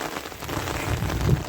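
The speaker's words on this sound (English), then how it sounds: "So all this water just filtering out from the paddock." Rainwater pouring off a paddock into a drain at the bottom of a driveway during Cyclone Jasper, a continuous dense rushing and splashing wash, close and fairly loud with no talk.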